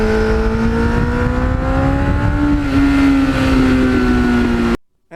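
A 35-year-old green Kawasaki Ninja motorcycle engine drones loud and close, its pitch climbing through the gears with brief dips at each shift before cutting off abruptly at the end.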